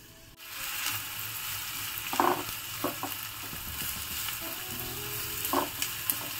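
Chopped onion drops into a pan of hot oil and sizzles steadily, with a few stirring clinks and scrapes over the continuous frying hiss, close and fairly loud, with no talking.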